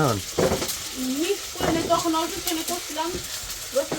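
Ginger and garlic fry in a pan with a soft sizzle and occasional stirring clinks, partly under someone talking nearby.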